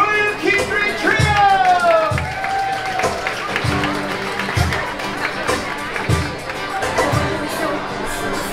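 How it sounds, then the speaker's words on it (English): Passengers aboard the Disney Wish cruise ship applaud a musical trio, crowd clapping and cheering rising and falling over several seconds under babble and some musical tones, loud and full. "Please be clapping for these very fine music makers"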